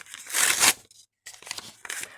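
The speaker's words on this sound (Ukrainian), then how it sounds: "Рівний пакетик відкрився." Paper surprise packet torn and unwrapped by hand, a close, loud burst of crinkling and tearing, a brief pause, then softer rustling of the paper.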